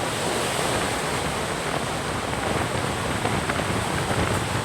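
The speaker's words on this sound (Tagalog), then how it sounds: "Nandito kami sa dagat ngayon." Sea surf crashes steadily alongside gusting wind during stormy weather at the shore, a loud, continuous roar with no pauses and no talking.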